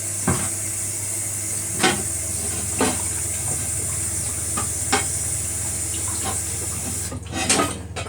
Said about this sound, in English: I'm just going to wash the chopping board and the knife, obviously, because it's had citrus on.